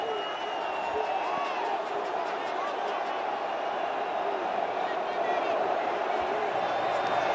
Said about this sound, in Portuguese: A imensa torcida vascaína canta na Arena da Amazônia